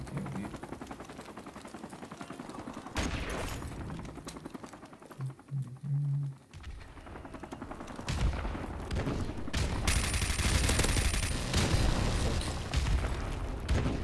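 Gunfire and explosions in a first-person shooter video game, with dense bursts of shots, booms and grenade blasts rolling on loudly throughout.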